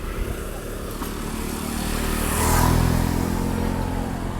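A motorcycle passes on a road in Thailand; its engine drone builds gradually, peaks loud and close midway, then stays steady as it goes by.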